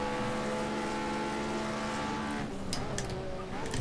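Historic race cars including a roughly 300-horsepower Ford Mustang and a smaller sub-200-horsepower car racing in a video game, with a sustained loud engine drone holding steady and then dipping and shifting pitch as the cars brake.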